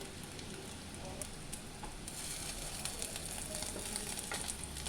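Fish roe fritters bound with a little gram flour fry in hot oil, giving a steady close crackling sizzle that runs throughout with occasional sharper pops.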